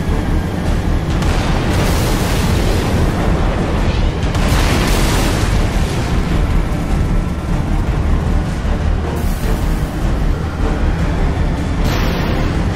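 A tank in the video game Halo: Reach fires amid continuous explosions, producing loud, sustained booming blasts and rumbling bursts that pile on top of each other with no quiet gaps.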